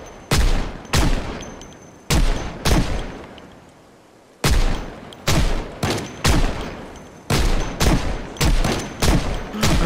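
Gunfire in the zombie survival game Project Zomboid: a burst of about a dozen loud, sharp shots in uneven clusters, with a brief pause near the middle, heard alone with no talk.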